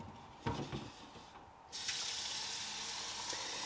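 Tap water gushing steadily into a water purifier container for a reverse osmosis system, starting abruptly after a couple of small knocks and continuing as a loud, close rushing hiss.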